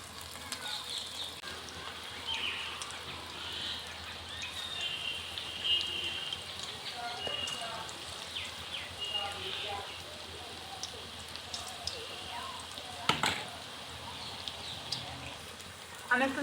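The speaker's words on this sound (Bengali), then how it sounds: "এখন আমি চিকেনের পিসগুলোকে তেলের মধ্যে দিয়ে দিচ্ছি।" Chicken pakora pieces going into lightly heated oil give a steady soft crackle and sizzle throughout, with a brief sharper burst near the end.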